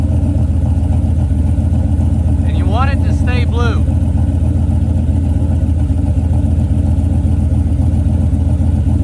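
A car engine idles steadily during a combustion-leak (blown head gasket) check with a drop tester fitted on the coolant filler, a loud continuous low drone with someone speaking briefly over it.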